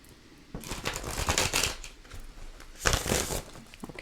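Tarot cards being shuffled by hand in two bursts of crisp riffling and flapping, the second shorter and sharper, close and fairly loud with no talking.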